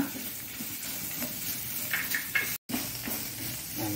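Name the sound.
frying with turmeric powder on low flame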